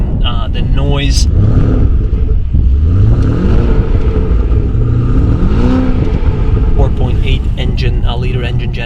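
A Porsche Panamera 970 Turbo with a 4.8 liter engine accelerating hard, its loud engine rising and falling in pitch through several revving sweeps, close and continuous.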